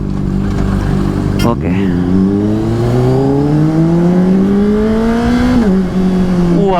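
A Honda CBR 600RR supersport engine revs up strongly in a long rising whine during a test ride, with a brief gear change near the start and another near the end, loud and sustained over wind noise.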